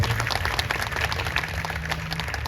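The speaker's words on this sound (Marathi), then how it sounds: "एकदा साहेबांकरता जोरदार टाळी वाजवल्या" Audience at a kirtan festival in Badlapur claps loudly for the local MLA, a dense continuous burst of applause from a large crowd filling the whole stretch.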